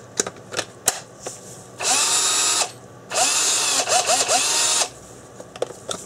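A cordless drill powered by a freshly repacked battery pack whirs in two loud bursts, the second with shifting speed, framed by small clicks and handling knocks before and after.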